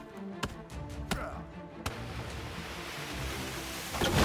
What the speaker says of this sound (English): We're gonna go ahead and get some logs by chopping down a tree.